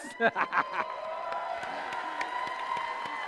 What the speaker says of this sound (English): as you're doing an applause, thank our great field resetters